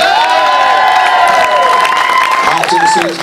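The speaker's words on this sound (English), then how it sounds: "everyone give them a big cheer" A wedding audience cheers and applauds loudly during a hypnotist's stage show, with whoops, shouts and clapping blending into a dense crowd roar that tails off at the end.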